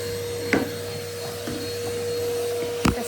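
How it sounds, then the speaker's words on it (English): A vacuum cleaner runs steadily while cleaning carpeted stairs, a constant droning whine with a few brief knocks and bumps as the nozzle hits the steps. "The stairs are quite difficult to vacuum."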